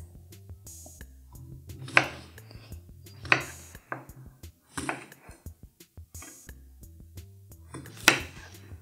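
Knife cutting a Thai eggplant into quarters on a board, a handful of sharp, separate chopping clicks spaced a second or so apart, close and fairly quiet in an otherwise still kitchen.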